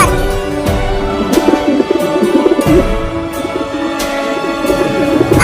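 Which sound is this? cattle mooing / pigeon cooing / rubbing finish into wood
pigeon cooing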